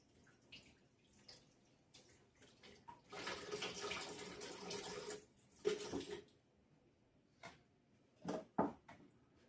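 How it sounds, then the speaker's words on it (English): A faucet runs at high pressure in a quiet indoor room, starting with faint trickles before a strong, hissing gush lasts a few seconds, then cuts off and is followed by brief splashes and knocks. "Good Lord, the water pressure in here is just ridiculous at times."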